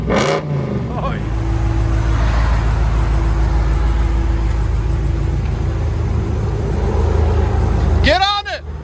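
A 6.4-liter HEMI V8 in a Ram 2500 Power Wagon roars loud and close through its exhaust, holding a sustained heavy drone for several seconds before the revs drop, with voices talking over the start and end.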